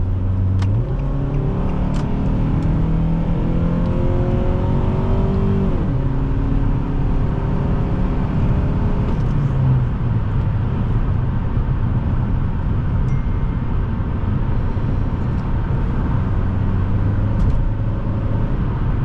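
Engine of a 2006 Nissan Altima 2.5 S heard from inside the cabin during a test drive, a loud steady drone with rising revs and gear changes early on, then a smoother cruising hum.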